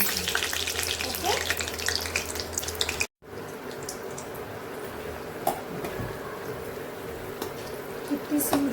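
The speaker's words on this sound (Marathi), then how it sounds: "गोल्डन रंग येईपर्यंत आपल्याला छान हे तळून घ्यायचं आहे" Aloo palak pakoda deep-frying in oil, a continuous bubbling sizzle broken by a brief cut, with occasional spoon clinks and faint background speech.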